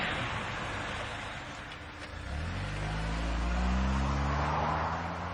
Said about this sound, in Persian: ماشینی که مسابقه کند.